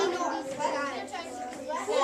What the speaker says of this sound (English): Here are some kids playing Battleship.